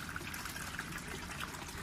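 Water rushes through a cascading flood-and-drain gutter bed, a steady, fairly loud gush and trickle of flushing water, continuous and unbroken, with no talking.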